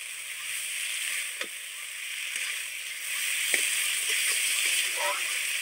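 Fried flat beans (shim) go into a pan of sizzling spice mix with Kashmiri chili powder, giving a steady, quiet frying hiss broken by a few soft stirring clinks and splatters.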